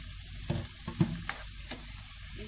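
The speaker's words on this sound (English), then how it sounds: "This is to cook the shrimp just a few minutes" Shrimp cooking in a pan for pancit, with a low steady sizzle broken by several soft stirring scrapes and clinks, close and moderately quiet with no talking.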